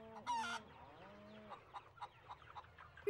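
Cartoon chickens on a farm cluck in a short burst of squawky, bouncing calls followed by softer scattered clucks, fairly close and without talk.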